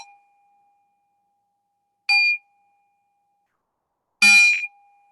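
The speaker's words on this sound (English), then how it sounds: "hear out the bell." A meditation bell struck twice, clear bright strikes with a long ringing tone that sustains between them in otherwise quiet surroundings.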